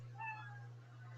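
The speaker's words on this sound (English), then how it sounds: "You hear the sound of a kitty." Cat meowing faintly in a thin, drawn-out cry, heard over a steady low electrical hum, with no talk during the sound.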